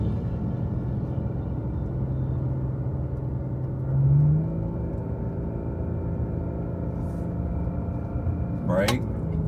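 Steady car engine drone while descending a long mountain road in Great Smoky Mountains near Newfound Gap, using low gears to slow, with a brief rise in pitch mid-way and a short squeal near the end; continuous rumble, close and fairly loud.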